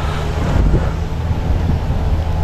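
Steady wind buffets the microphone, a low rushing roar that swells slightly toward the end.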